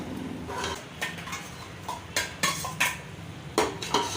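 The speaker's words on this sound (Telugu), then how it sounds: "ఇప్పుడు మనం లేయర్ లేయర్గా ఇప్పుడు రైస్ని అయితే వేసేసుకుందాం" Rice being spooned in layers into a pot for egg biryani, heard as a series of clinks and scrapes of a metal spoon against the pot rim. The sounds come in irregular bursts, close and moderately loud, with no talking.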